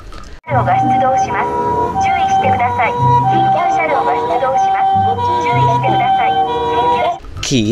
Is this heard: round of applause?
no